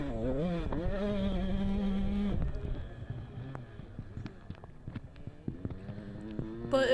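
A dirt bike engine in fourth gear during a GNCC off-road race drones loudly at high revs, then its note drops and turns rougher and more uneven, with faint talk mixed in.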